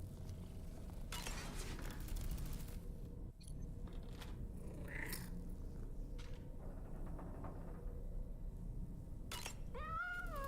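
A cat in the video game Death Stranding 2 meows with a rising, wavering call near the end, over a dense bed of ambient game noise and clatter.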